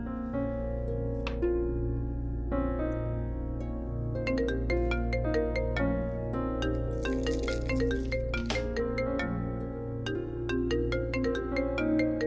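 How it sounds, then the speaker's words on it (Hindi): A phone ringtone plays a steady electronic melody for about twelve seconds, loud and continuous, with no voices over it. "किसका फोन था?"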